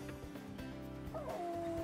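A Pomsky dog in The Dog Island video game lets out a few quick yips that end in a rising, whimpering cry, heard over steady game music.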